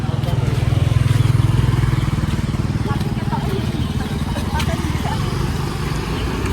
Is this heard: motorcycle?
yes